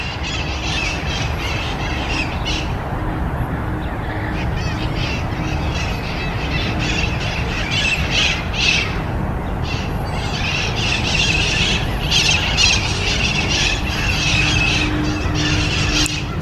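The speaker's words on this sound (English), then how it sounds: "There's so many birds." Parrots and other birds squawk and screech continuously at a lagoon in the early morning, a busy overlapping chorus of harsh calls over a steady outdoor background.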